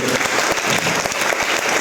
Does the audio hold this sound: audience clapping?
yes